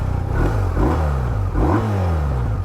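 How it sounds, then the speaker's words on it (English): A BMW R1250 RT motorcycle boxer engine starts, rumbles and revs up several times in quick bursts, loud and close. "The Boxer always sounds good when it starts up."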